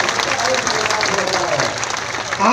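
A large crowd of teachers at a protest rally breaks into loud, sustained clapping, a dense close wash of applause with voices mixed in.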